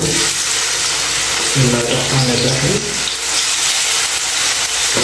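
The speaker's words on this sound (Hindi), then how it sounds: "अभी जो है हम इसमें ये जो मैंने प्याज काटे हुए थे बारीक, ये इसमें डाल देते हैं।" Finely chopped onions tipped into hot oil in a pan, giving a loud, close, continuous sizzle and crackle with brief stirring clatter partway through.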